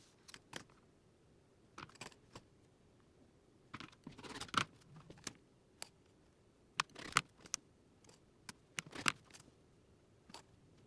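Sharp scissor snips cutting sewing fabric down to 8.5 by 11 inch pieces, scattered quiet crisp cuts and rustles at irregular intervals in a quiet room.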